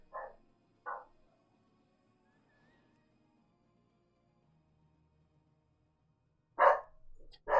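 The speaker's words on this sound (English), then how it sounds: "What's that? My little dog." A small pet dog barks twice in quick succession near the start, then after a long quiet stretch lets out a louder burst of two or three barks at the end, close by.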